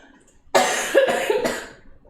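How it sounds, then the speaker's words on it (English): A person coughs several times in quick succession while making crispy rice with spicy tuna in a home kitchen, with three loud, close, rough bursts and no talking. "Okay, I need to cough one more time."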